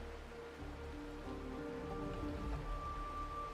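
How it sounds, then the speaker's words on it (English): Soft, steady rain falls in a scene from Honkai: Star Rail, a faint continuous patter over low ambient music tones, with no voices. "This is the sound of rain."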